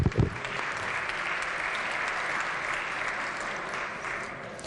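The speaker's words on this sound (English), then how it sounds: "Please give them a round of applause." Sustained applause fills a state legislature chamber, steady, dense clapping from the gathered members and gallery, loud and even throughout with no talk over it.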